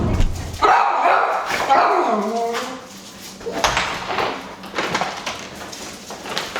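A dog barks several times close by, sharp loud bursts with some whimpering yips between them, no one speaking.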